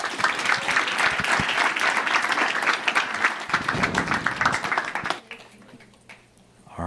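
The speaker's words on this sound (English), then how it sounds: "Let's give him one more round of applause" An audience applauds in a dense, sustained burst of clapping for about five seconds, then it cuts off abruptly to near quiet with a faint trailing sound.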